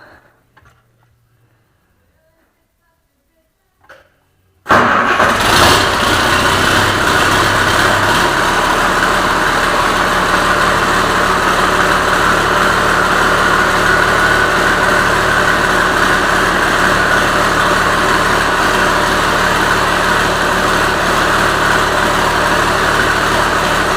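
Turbocharged 1955 vehicle engine fires up after a few seconds of quiet and settles into a loud, steady idle with a constant low rumble and droning hum.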